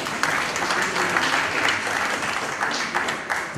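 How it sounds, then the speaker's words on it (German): An audience applauds and cheers at a talk in Bavaria, giving a dense, steady wash of clapping that runs loud and continuous for a few seconds. "Ich kriege immer in Bayern Standing Ovation"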